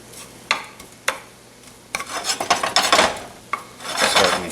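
Garlic, two cloves, hissing in hot oil in a pan, a soft crackling sizzle that swells in bursts with a few sharp scraping clicks, close and alone.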